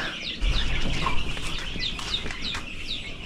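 Chickens cluck and chirp near a farm, with repeated short calls over a soft background rustle and no talk.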